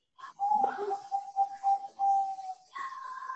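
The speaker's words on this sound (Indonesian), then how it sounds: "Ini ada suara burung, ini burungnya siapa ya?" A bird calls in the background of an online class, giving a sustained whistled tone with a few brief chirps, heard faintly behind other room noise.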